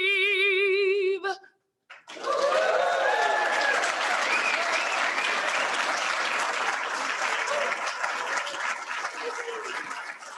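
A sustained held note cuts off, then after a brief pause a room full of people bursts into loud, steady applause after the national anthem at a club meeting, with cheering and whoops mixed into the clapping.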